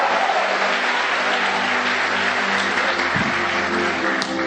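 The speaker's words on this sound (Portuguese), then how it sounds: "Dê um aplauso a esse Deus nessa noite" A church congregation claps loudly and continuously during an evening worship service, the crowded applause holding steady over a low organ or keyboard drone.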